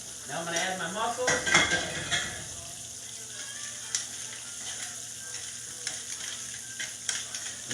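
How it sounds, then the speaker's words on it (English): Mussels dropped into a hot sizzling pan for pasta puttanesca, a loud clattering, scraping burst in the first few seconds that settles into a steady close frying sizzle with occasional small clicks. "Now I'm going to add my mussels."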